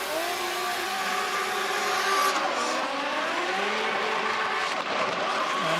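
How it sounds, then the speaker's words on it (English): A BMW 46 drift car revs hard through corners during a qualifying run at the FIA Intercontinental Drifting Cup in Riga, its loud, continuous engine note rising and falling with sharp breaks. "Lots of pops and bangs and loud noises coming from his BMW 46."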